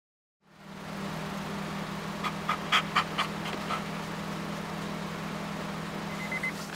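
A dog whimpers and pants softly over a steady low engine hum inside a vehicle, with a brief cluster of higher whines partway through.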